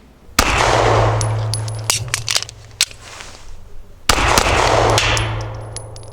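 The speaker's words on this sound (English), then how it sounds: "I just had to put the mag in, immediately hit the slide release, and drive it forward." Pistol magazine seated and slide release dropping the slide forward, heard as a couple of sharp metallic clacks and clangs with a steady low hum beneath, no talk.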